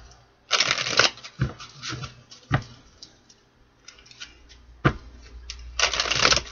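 A deck of tarot cards is shuffled in bursts of crisp riffling and soft slaps, with several separate shuffles and quiet pauses between them, close and clear.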